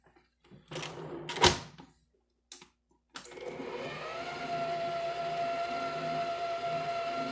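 After a few short knocks and clatters, an electric mixer starts up and runs steadily, beating chocolate layer cake batter with a continuous close whirring hum.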